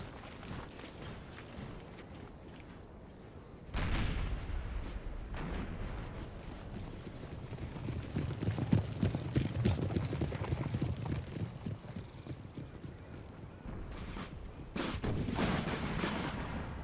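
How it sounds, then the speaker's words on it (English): Artillery, probably canister shot, firing during the Battle of Ramillies in the strategy game Empire: Total War. Muffled cannon booms come at irregular intervals over a low battlefield rumble, all fairly quiet and distant. "you can see they actually taken some losses to that artillery, probably canister"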